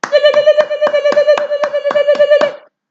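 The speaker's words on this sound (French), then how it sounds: "Levez-vous et applaudissons ce Dieu-là." A church congregation claps in steady unison, about ten loud rhythmic claps over a sustained sung or spoken tone that carries underneath throughout.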